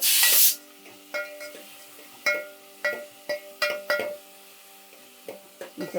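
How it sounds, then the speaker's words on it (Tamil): Onion and tomato sautéing in a pan for sambar with drumstick, raw mango and brinjal, heard as an opening burst of hiss followed by irregular clinks and scrapes of a spoon against the pan, close and sparse. "இந்த வெங்காயம் தக்காளி லைட்டாக வதங்கினா போதும்"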